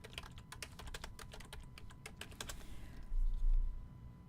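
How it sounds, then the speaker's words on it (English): Quick bursts of typing on a computer keyboard, rapid close key taps in an irregular rhythm for a few seconds, alone with no talk, followed by a brief low thump. "Let's type in"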